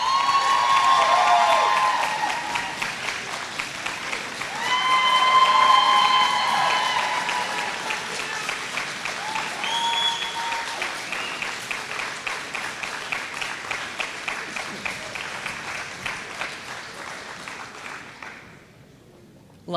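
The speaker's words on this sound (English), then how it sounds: "Maybe you could take a moment to show your appreciation to them with a round of applause for your supporters." A graduation ceremony audience in a large hall gives sustained applause with some cheering and shouts, swelling early and then gradually thinning to scattered claps before fading out.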